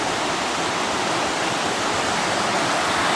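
Steady broadband rush of river water flowing through old mill workings with a wheel, gate and piping, continuous and fairly loud, close by with no voices.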